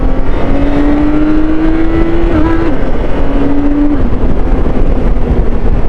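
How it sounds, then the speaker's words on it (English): A smooth inline six-cylinder BMW K1600 GTL motorcycle engine hums steadily, its pitch rising gently then dipping as it shifts, with wind rush underneath. "And the engine is butter smooth."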